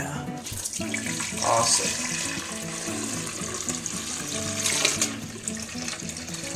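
Water runs into the reservoir of a 12-cup Oster coffee maker, a steady splashing pour lasting several seconds, close and moderately loud, while a voice speaks briefly over it.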